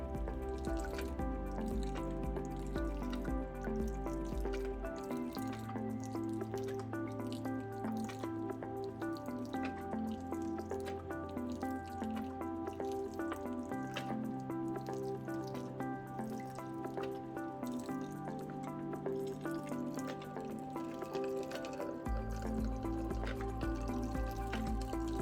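Water drips steadily onto soil in a simulated rainstorm on a model hill, a dense patter of small drops over a sustained, shifting musical drone throughout.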